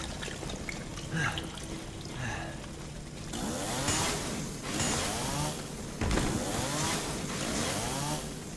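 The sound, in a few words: chainsaw attack in the video game Resident Evil 7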